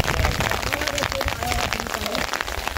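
Rain patters steadily on surfaces in a Nepali mountain village, a dense close hiss of drops with faint voices in the background.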